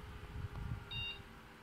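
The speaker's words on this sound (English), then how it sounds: "So you hear a beep, then it's gonna display." A computer restarting gives a single short, clear beep lasting a fraction of a second over a low steady hum of fans and background noise.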